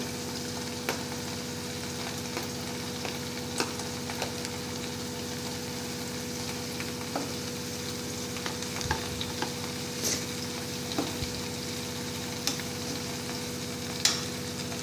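Green chilies frying in a pan give off a steady close-up sizzle with a constant hiss, dotted with small pops and the occasional clink of stirring, and no talking over it.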